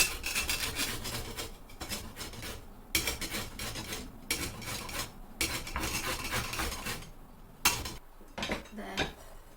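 Half a lemon being zested on a grater, a close, harsh rasping in repeated rhythmic strokes with short gaps and a metallic edge.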